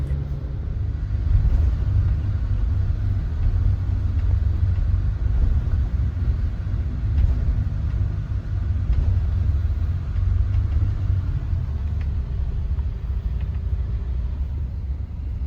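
A luxury TAM coach bus on the Medan to Pekanbaru trip, heard from inside while driving fast on a toll road, gives a steady low engine and road rumble that stays even and continuous throughout.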